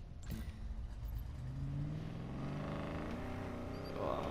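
A car engine in Need for Speed Payback revs up and holds a rising, steady roar, loud and close, with no talk over it.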